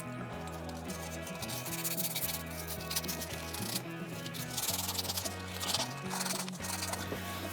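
Copper pipe sanded by hand with 400-grit sandpaper, a continuous faint rasping rub with uneven back-and-forth strokes, close and alone.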